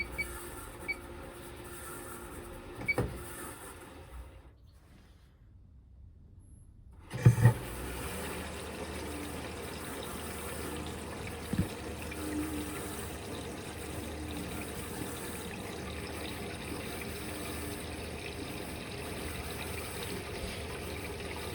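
An Electrolux Quickwash commercial washing machine fills with water: a faint steady rush with a few clunks, briefly cutting to near silence, then resuming after a knock as a constant low hiss of inflowing water.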